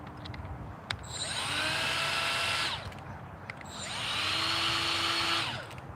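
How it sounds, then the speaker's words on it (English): A small right angle die grinder fitted with a cutoff wheel runs in two sustained bursts, its high whine rising and falling in pitch as it spins up and slows, loud and close with no talk. "this little right angle die grinder tool. It's cut off wheel. It's like a Dremel."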